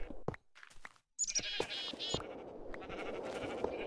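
Minecraft sheep bleating in the Tekkit modded game, a few short synthetic bleats rising over faint background game noise, fairly close and clear with no talking over them.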